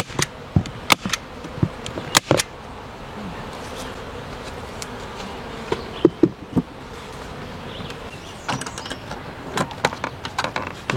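Honeybees from a hive colony buzz steadily at close range during an inspection, a continuous drone broken by brief louder passes as individual bees fly near; no talking.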